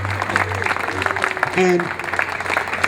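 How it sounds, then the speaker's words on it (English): Applause for city officials at a plaque dedication ceremony, a dense patter of clapping running throughout beneath someone speaking into a microphone. "Round of applause for our city officials."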